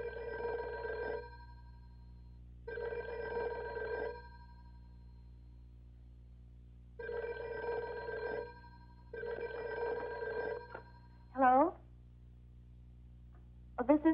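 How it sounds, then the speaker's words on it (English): Telephone in a 1958 horror film ringing with an old-style mechanical bell, four evenly spaced long rings separated by silent gaps, clear and close, followed by a couple of short sounds at the end. "Was that your phone?"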